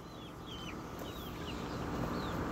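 Chickens cluck and chirp faintly in a steady outdoor background, with short scattered calls over a constant low rumble.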